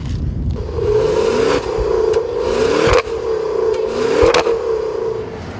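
A 2014 Maserati Quattroporte V8 with paddle-shifted transmission accelerates hard at high altitude, its engine note climbing steadily through several gear changes, loud and close with a continuous whirring drone and no talk.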